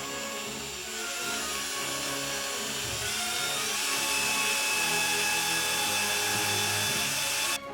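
A power drill bores into wood while a DIY pegboard thread rack is being made, its motor whining steadily and rising in pitch and strain, then cutting off abruptly at the end.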